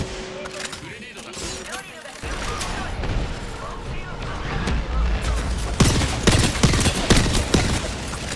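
Explosions and rapid gunfire fill a battle in Apex Legends, a grenade blast among dense bursts of shots and a heavy low boom, with crackling fire continuing loud and close over a background game voice.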